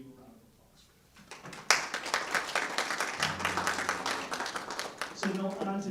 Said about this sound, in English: I'd just like to give you a round of applause